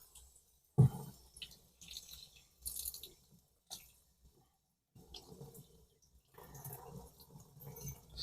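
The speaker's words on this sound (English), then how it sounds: "Rinse this off good." Water splashing and trickling over a rusty tomahawk head as it is rinsed, intermittent close bursts of running and dripping water separated by brief pauses.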